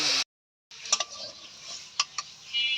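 Spinach is stirred into a pan with a spicy pabda fish curry: a soft, steady sizzle with scraping stirs and a few sharp clinks, close up, after a brief silence and with no talking.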